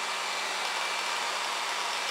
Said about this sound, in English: I could take this heat gun, or hair dryer actually, heat it up.